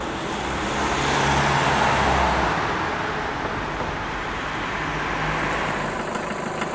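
An old white car pulls up on a rainy night, its steady engine and road rumble filling the scene at moderate loudness, with a low idle tone settling in as it comes to a stop.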